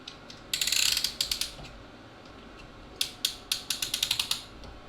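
A metal piston ring compressor is fitted over an oiled engine piston from a 1954 Fargo half ton, giving close, sharp clusters of ratcheting clicks in two bursts separated by a quiet pause.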